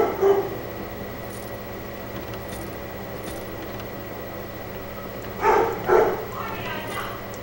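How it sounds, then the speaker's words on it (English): A dog in the fantasy role-playing game Dragon Age: Origins barking in a couple of short bursts near the start and end, moderately loud over a steady background hum, with a voice talking. "The dog is just going crazy."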